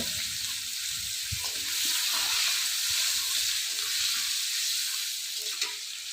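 Green chilies frying in hot oil beside a hilsa fish head, a close, steady crackling sizzle with a few soft stirring knocks, no talk.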